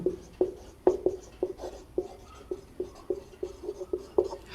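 A pen scratches out "hence proved" by hand in a quick, regular series of close, short strokes and ticks on paper, a dozen or so in a few seconds.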